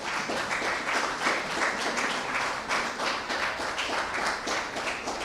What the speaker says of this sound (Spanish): ¿Cuántos pueden darle un aplauso a Dios por eso?